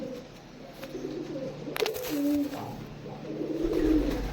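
Lotan pigeons, including a black Lotan, cooing softly at close range in a few low, rolling calls, with some background noise.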